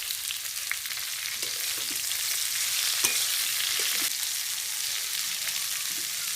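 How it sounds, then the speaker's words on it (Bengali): Papaya, potato and pipul greens fry together in a pan with a soft, steady sizzle and a few faint clicks and scrapes of stirring, fairly quiet and close. "এবার মাঝে মাঝে ঢেকে দিয়ে সুন্দর করে ফ্রাই করতে হবে, যাতে পেঁপেটা বেশিরভাগটাই গলে যায়, পেঁপে আর আলুটা।"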